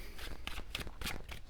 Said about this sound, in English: Let me pull some more cards.